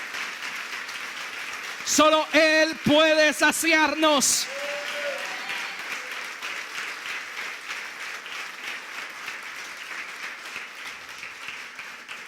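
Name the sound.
audience applause in church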